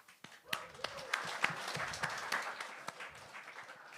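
A comedy show audience answers with scattered, faint applause, a handful of distinct claps over a soft patter of clapping.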